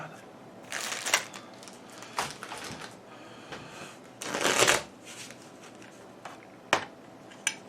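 Board game cards are shuffled on a tabletop in several crisp riffling bursts separated by pauses, close and fairly loud, with faint background sound between.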